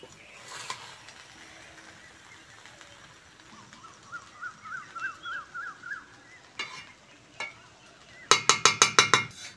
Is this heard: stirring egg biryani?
yes